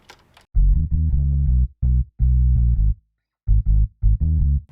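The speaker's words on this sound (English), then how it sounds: "this is the guitar. If you listen," A reggae guitar track plays back in FL Studio as short, choppy chord bursts separated by brief gaps, loud and clean with no talking over it.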